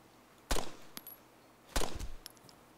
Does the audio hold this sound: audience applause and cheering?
no